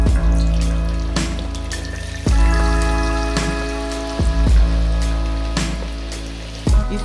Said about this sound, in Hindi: और जब ऑयल अच्छी से गर्म हो जाएगा तो हम इसमें फिश डालकर फ्राई कर लेंगे।